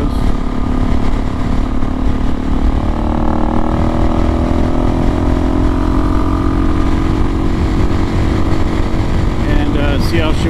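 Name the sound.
Suzuki DRZ400S motorcycle riding off road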